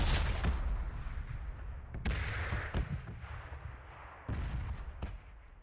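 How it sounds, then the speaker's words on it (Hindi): Bombs drop during a PUBG match on PS4, with a rumbling stream of explosions and sharp, booming blasts spaced a second or two apart over a low, continuous roar. "क्या बम गिर रहे हैं"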